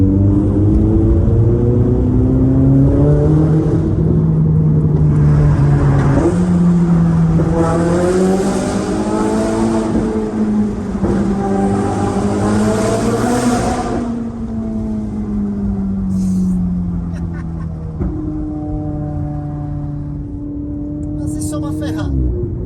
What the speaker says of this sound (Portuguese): tá lá no fundo aquele típico barulho do V8 Ferrari, só que um pouquinho mais abafado